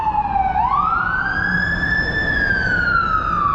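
A fire engine siren wails steadily on a street, its pitch sweeping up and then holding high, loud and continuous over low traffic rumble.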